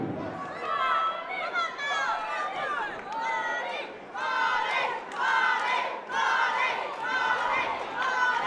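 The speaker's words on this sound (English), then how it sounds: "The crowd is so loud." A boxing crowd roars loudly in surging waves of shouting and cheering, with dense overlapping voices throughout.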